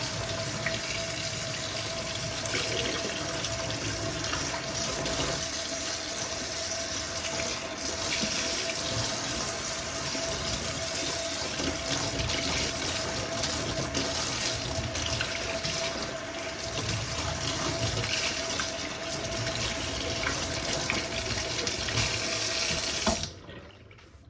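A Dyson V15 vacuum filter is rinsed under a running tap, giving a steady, close hiss of water splashing into a sink for over twenty seconds before it cuts off abruptly.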